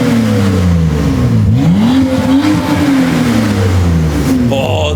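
A BMW engine revs loudly and continuously on a night drive in Times Square, its pitch dipping and climbing again, with a steady droning roar close by.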